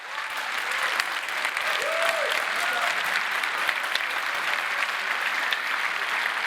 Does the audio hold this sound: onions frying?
no